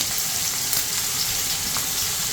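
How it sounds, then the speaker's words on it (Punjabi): Chopped onions frying steadily in a pan for a Punjabi curry, a continuous close hiss of sizzling oil filling the clip with no speech. "ਇਹ ਪਿਆਜ਼ ਜਿਹੜੇ ਆਪਾਂ ਬਹੁਤ ਜ਼ਿਆਦਾ ਬ੍ਰਾਊਨ ਨਹੀਂ ਕਰਨੇ"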